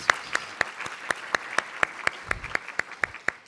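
Evenly spaced single claps in a steady rhythm, about four per second, crisp against a quiet background, at an induction ceremony.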